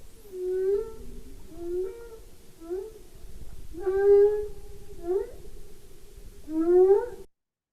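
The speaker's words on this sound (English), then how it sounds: "And that's a humpback whale." Humpback whale song recorded underwater by ocean monitoring off California: a series of long, rising and falling moaning calls with harmonic upsweeps, repeated about six times at a steady pace over a low rumbling background, with no talk.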